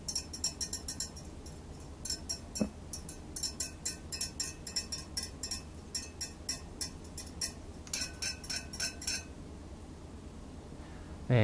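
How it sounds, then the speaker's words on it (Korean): Chopsticks stir a raw egg in a glass, making faint, quick, rhythmic clinks against the glass that go on for several seconds in an otherwise quiet room. "젓가락으로 저어 보니까 위쪽으로 뜨기도 했는데요"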